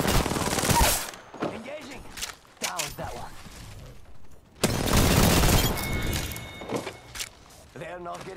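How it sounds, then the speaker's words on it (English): Enemy gunfire in Apex Legends, loud bursts of rapid shots and booming impacts broken by quieter stretches, with voices talking in between. "No, they're shooting over there."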